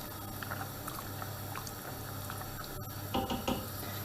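A pot of aşure, a Turkish pudding, bubbles away at a steady simmer, with a soft continuous gurgling hiss and a few louder pops and clinks near the end.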